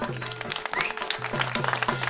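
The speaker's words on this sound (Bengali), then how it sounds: "তাই নিজেদের জন্য একটা জোরে হাততালি দিন" Applause from an audience at a Kali Puja celebration held by a local club, a brief patter of clapping over a steady low music background, moderately loud and unbroken through the short stretch.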